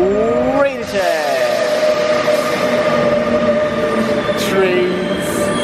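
A Railjet train pulls into Munich main station with loud, continuous rumbling, rising and falling tonal whines, and a brief high squeal of wheels or brakes near the end.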